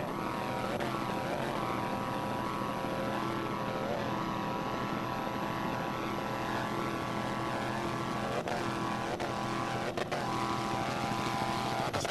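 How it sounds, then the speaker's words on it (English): Racing powerboat with a Mercury 525 horsepower EFI inboard engine and Mercury drive, competing at an offshore world championship race in Destin, Florida, gives a steady, continuous droning engine roar throughout, fairly distant and unbroken, with no talk. "Team Typhoon is powered by Mercury 525 horsepower EFI inboard with a Mercury drive"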